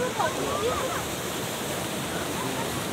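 Water rushing at a waterfall, a dense continuous roar held at an even level, with faint voices briefly audible over it.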